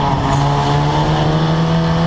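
Historic Formula Ford race cars at Snetterton circuit, a loud continuous engine drone holding a steady pitch as the cars run flat out, close and without talking.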